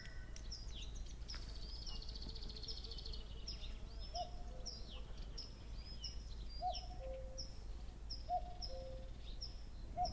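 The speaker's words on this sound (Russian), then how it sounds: "Это иволга." A Eurasian golden oriole sings in a forest on a fine day, short fluting whistles recurring every second or two, faint and distant among higher chirps from other birds and a low steady ambient hum.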